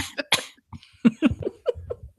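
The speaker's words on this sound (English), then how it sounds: "obnoxious cough." A series of harsh, hacking coughs in quick bursts, close and fairly loud, repeating irregularly with short breaths between them.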